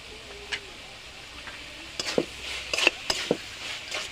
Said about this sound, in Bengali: এগুলো এখন আমি ভালোভাবে আর একটু কষিয়ে নেব